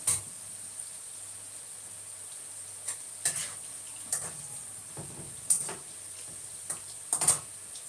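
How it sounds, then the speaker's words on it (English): Food frying in a pan while dinner is prepared, a steady faint sizzle with a low hum beneath and scattered clinks and scrapes of stirring, no voices. "So as I'm frying this thing now,"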